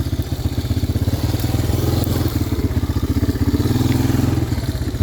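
A 1985 Honda Big Red 250ES three-wheeler is ridden, its engine putting steadily in a fast, even pulse, loud and close, with faint clatter and no voices.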